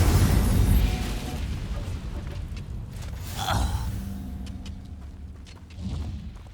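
An Incendio fire spell is cast in Hogwarts Legacy, a loud booming burst that fades into rumbling, then a sharp flaring whoosh midway and a softer flare near the end, with no talking.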